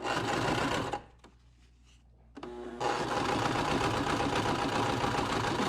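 Sewing machine stitching a tie face mask along the pleats, running steadily and loudly, stopping briefly for about two seconds, then starting again and continuing without pause.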